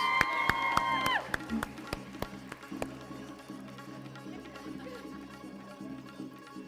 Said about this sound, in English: Ladies and gentlemen, all those for girls' power, for Shakirra, big round of applause.